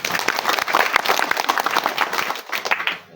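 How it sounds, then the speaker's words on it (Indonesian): Short burst of audience applause: dense, many-handed clapping from a seated crowd at an indoor fertilizer briefing, loud and steady before tapering off at the end. "Tepuk tangan ya."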